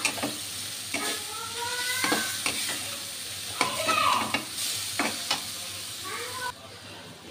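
A spoon scrapes and stirs water lily stems frying in a pan over medium heat, with a steady sizzle beneath repeated scraping strokes, close by, and faint talking in the background.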